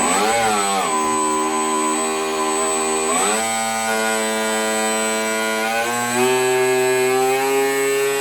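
A 2830 outrunner airplane motor fitted in an RC boat whines up in steps, its tone rising sharply several times and then holding steady, loud and close with no talk.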